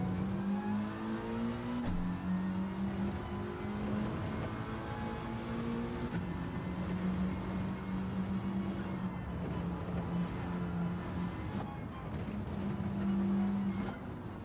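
A race car engine in a racing simulator time trial drones steadily, its pitch rising and falling with shifts and braking, close and continuous without a break.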